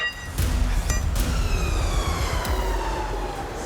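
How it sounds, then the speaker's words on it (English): Emergency vehicle sirens sound during a truck rescue, a wailing tone sweeping downward over a low rumble and a few sharp clunks, fairly loud and with no speech. "With the sound of sirens ringing in his ears, Lee knows there's not a moment to lose."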